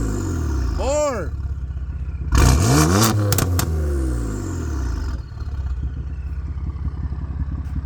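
A BMW M4 with the S55 engine revs: a quick blip rises and falls, then a louder, longer rev swells and drops back to a rumbling idle, close and strong, with people talking over it.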